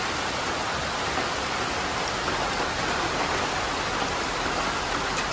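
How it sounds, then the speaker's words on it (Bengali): Heavy rain pours down on a village, a dense, even, loud hiss of falling water that stays constant throughout with no voices. "খুব ভালোই বৃষ্টি হইতেছে আজকে।"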